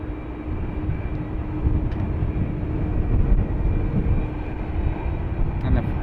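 Emirates Boeing 777 airliner, a seven-year-old jet arriving from Dubai at Dublin Airport, gives a steady low rumbling roar that swells gently and holds throughout, heard at a distance outdoors.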